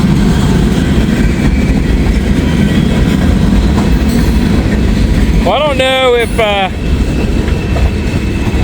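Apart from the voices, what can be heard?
long freight train passing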